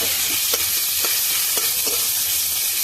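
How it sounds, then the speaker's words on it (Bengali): Chopped onions sizzle steadily in a pan while a spoon stirs them, with several distinct scraping strokes over a continuous loud fry, no speech. "এবার পেঁয়াজটাকে ভালো করে ভেজে নেব"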